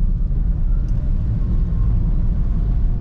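Low, steady rumbling cabin noise inside a Honda Brio driving slowly in rain, a dense continuous road and engine drone with a faint wash of rain, no talk.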